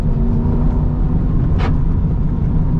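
The naturally aspirated V8 of an Aston Martin V8 Vantage race car drones steadily onboard during a lap of the Nürburgring. The engine is loud and close, with a brief rushing burst partway through.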